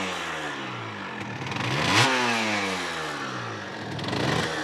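A cold Derbi GPR 75cc motorcycle engine revs up to a sharp peak, then settles back to a rattly idle before rising again. It is loud and close, with no talking.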